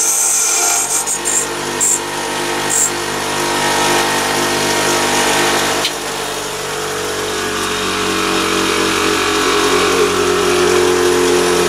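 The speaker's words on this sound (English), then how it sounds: "now I've got to cut this off carefully on the grinding wheel" A grinding wheel cuts steadily into a small metal part, a continuous whining drone with a sharper bite in the first few seconds, loud and close with no talking.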